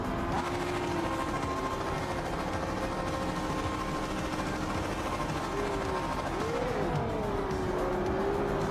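A race car engine in the Project Motor Racing video game droning steadily, with its pitch wavering and jumping as it bounces off the rev limiter. The sound is continuous and moderately loud, heard alone without speech.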